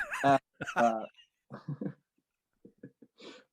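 A dog whimpers in several high, whiny bursts, the first ones louder and pitch-bending, the later ones fainter and broken up by short silences.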